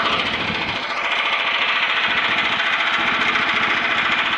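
A SARP S5L2 motor tiller's small engine runs steadily close by, giving a loud, continuous rapid chugging and rattling drone with no speech.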